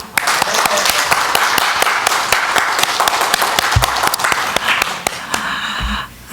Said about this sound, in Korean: 하나님 아버지께 영광의 박수